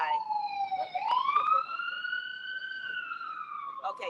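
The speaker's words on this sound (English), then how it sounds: "Now just let this ambulance go by." An ambulance siren passes outside the Tiki Bikini Hut, a wailing tone rising and falling in long sweeps at moderate distance, with faint background murmur.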